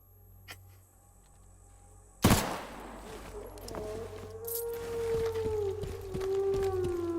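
A sudden sharp blast breaks a quiet stretch, followed by a rising, sustained roar and tonal droning, like a game explosion with lingering rumble.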